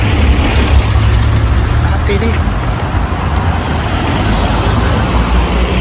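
Motorcycle engine running close by on a busy roadway, a steady loud rumble with surrounding traffic noise throughout, while a person briefly speaks over it.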